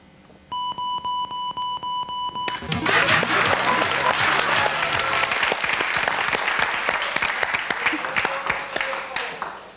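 Studio audience applause on the French game show Motus, loud sustained clapping that swells after a run of rhythmic electronic beeps, with a host's voice over the clapping.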